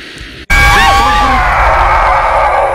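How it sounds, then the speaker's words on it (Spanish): A loud, sudden scream erupts in the horror game Devour after a sharp cut, a harsh wavering shriek that sustains and slowly fades. "Me asustó tu grito más que otra cosa."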